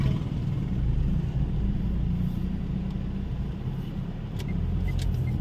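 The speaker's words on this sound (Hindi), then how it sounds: "तो पीछे से ट्रक आ रहा है" A truck drives along the road behind a car, heard as a steady, loud, close engine and road drone that continues throughout without any talking.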